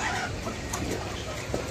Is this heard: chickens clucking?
yes